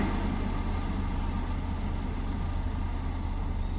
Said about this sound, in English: A ute coming down. A Holden and a pilot vehicle,